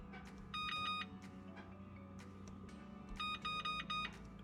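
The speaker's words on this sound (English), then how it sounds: "I'm going to set this timer." Kitchen timer being set beside an oven preheated to 400 degrees: a quick burst of repeated bright electronic beeps, then a pause filled with low room hum, then a second similar beeping burst, close and clear.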